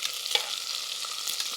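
Two onions fry in a pan while cooking mushroom biryani, with a close, even sizzle and a few soft stirring knocks, and no one speaking.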